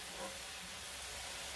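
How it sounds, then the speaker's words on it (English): Wine simmering in a pan while deglazing for a seafood pot pie, a steady, soft broadband hiss and sizzle that holds evenly throughout, faint and close, with no voices. "Just want to deglaze this a little bit, let this wine cook down"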